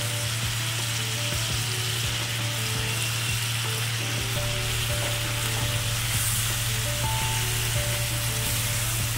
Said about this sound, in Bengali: এবার এর মধ্যে মাংসের ধুয়ে রাখা কিমাগুলো আমি দিয়ে দিলাম।